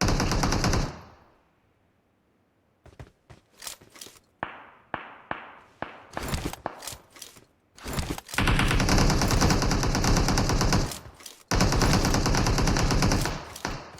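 Gunfire fills a match of PUBG Mobile. After a quiet opening there are sharp single shots, then long, loud automatic bursts that continue with only short breaks.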